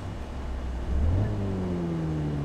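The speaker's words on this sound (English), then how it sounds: "I think we have the default city car driving engine sounds" A taxi's engine starts in the City Car Driving game: a low rumble steps up around the one-second mark and settles into a steady idle hum with rising and falling whine tones, alone and without talk.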